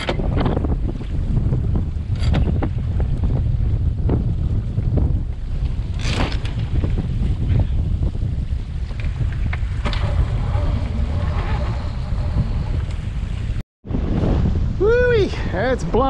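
Strong wind roars steadily across the microphone over the rush of water along a sailing boat's hull in gusty wind during a jibe, with a brief dropout near the end.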